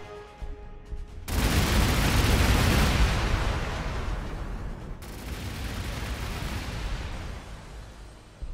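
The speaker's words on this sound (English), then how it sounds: "It's a thunderfire cannon." A thunderfire cannon fires in a Warhammer 40k game (Astra Militarum), a sudden loud blast at about one second that rolls into a sustained, dense barrage of booming impacts, with a second sharp hit midway through, no speech.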